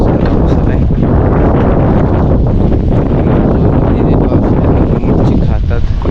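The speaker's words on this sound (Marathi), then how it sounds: "तर मित्रांनो बघू शकता एकदम वारा वाढलेला आहे" Strong wind roars across a fishing boat at sea near the Bandra-Worli Sea Link, with loud constant buffeting and microphone rumble, and someone speaking under it.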